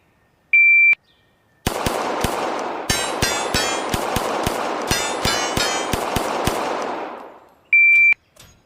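Rapid shots fired at targets on a shooting stage, a steady volley of sharp cracks lasting several seconds, framed by a loud electronic start beep before and a stop beep after.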